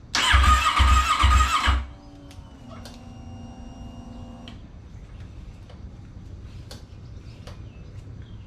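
A car engine low on fuel cranks in a quick run of rhythmic turns for under two seconds without catching, then everything drops to a faint hum with a few small ticks.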